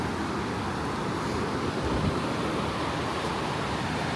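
Ocean waves wash up on a San Diego beach, a continuous broadband rush of surf with wind mixed in, steady and fairly loud, with a slight swell near the middle and no voices.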